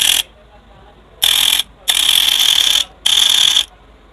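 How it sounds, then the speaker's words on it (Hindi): A small electric air cooler water pump buzzes and rattles in short bursts, switching on and off several times. It is close and fairly loud, with no talking. "ये जो पंप है ये बिल्कुल ओके है। आपको इसकी आवाज़ आ रही होगी।"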